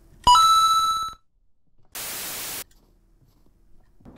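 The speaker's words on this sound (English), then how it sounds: "I hit a bell!" In the Granny remake video game, a bell is struck once, giving a sharp bright ring that decays over about a second, followed after a pause by a short burst of hissing static.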